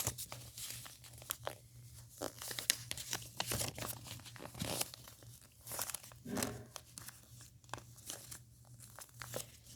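Sheet of paper folded into a paper airplane, with close crinkles, creases and rustling swipes in irregular bursts over a faint low hum.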